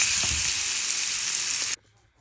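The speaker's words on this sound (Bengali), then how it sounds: "আলুটা শুধু লবণ হলুদ দিয়ে আমি এই আগের তেলেই ভেজে দেবো।" Potato pieces with salt and turmeric fry in reused oil, giving a loud, continuous sizzle close by that stops suddenly near the end, leaving a quiet pause.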